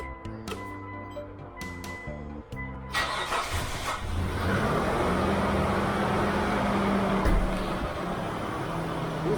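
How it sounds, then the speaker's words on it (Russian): A car with a Mitsubishi 6G72 engine that has a lifter knock turns over and catches after a brief crank, then settles into a loud, steady idle that holds for several seconds, close by and without talk. "И сейчас мы будем заводить машину и слушать, что же могло измениться"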